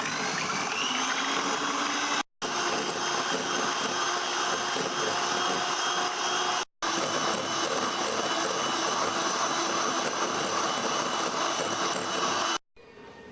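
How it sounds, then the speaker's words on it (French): Electric hand mixer whipping liquid cream into whipped cream for an Oreo cheesecake, a steady loud motor whir running continuously, briefly cut off twice, with no talking. "à l'aide d'un batteur électrique, je vais venir donc monter la crème directement en chantilly"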